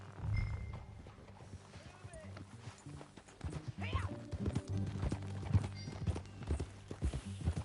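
Hooves clip-clop at a steady ride pace in Red Dead Redemption 2, with an occasional snort, under game music and voices talking.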